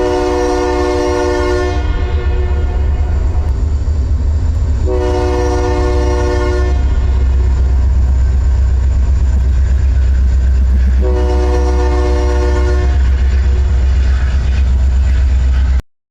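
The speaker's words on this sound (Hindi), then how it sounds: "थोड़ी देर बाद हमारी ट्रेन भी चल दी अपने" A train pulls away and rolls along the rails with a steady, heavy rumble. Three long horn blasts sound loud and close over it, and no one speaks.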